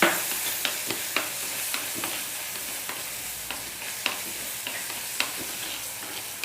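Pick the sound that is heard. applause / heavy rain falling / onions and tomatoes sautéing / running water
onions and tomatoes sautéing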